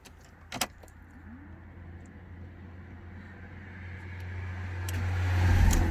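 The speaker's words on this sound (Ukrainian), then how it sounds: "Автомобіль заводиться без без питань" A BMW 316 with a five-speed manual gearbox has its engine started after a couple of sharp clicks, then settles into a low idle hum that gradually grows louder.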